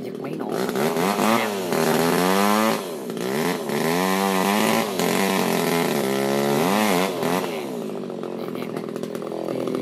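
A two-stroke chainsaw is started and run near the microphone while cutting kapok trees used as living supports in a pepper plantation. It holds a loud buzzing drone for about ten seconds, with repeated rising and falling revs.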